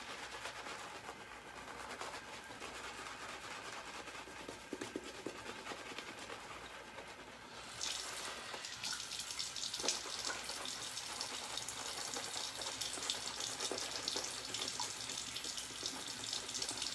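Tap water runs steadily into a sink for shaving lather, a continuous splashing hiss that grows louder and brighter partway through as the flow increases.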